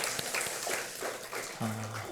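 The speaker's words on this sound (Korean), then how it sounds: "우리 찬송 가운데 임하신 하나님께 감사와 영광의 박수 올려드리겠습니다." Church congregation applauding during a Sunday morning worship service, a soft, diffuse wash of many hands clapping at moderate distance, fairly steady throughout, with a brief tonal sound near the end.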